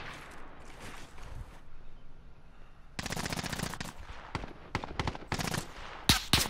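Gunfire in the video game Call of Duty Warzone: a quiet opening, then a dense burst of rapid shots, followed by several sharp separate cracks, loud and close.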